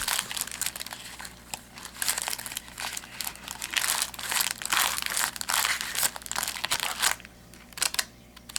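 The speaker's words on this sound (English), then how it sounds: "Absolutely gorgeous paper, as usual. Flip it over." A sheet of decorative craft paper is handled and flipped over up close, producing continuous crinkling and rustling with crisp bursts of crumpling throughout.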